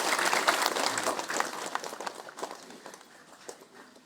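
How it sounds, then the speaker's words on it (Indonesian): A church congregation gives a round of applause, with clapping that is loudest at first and then gradually fades and thins out over a few seconds. "Mari kita berikan aplaus."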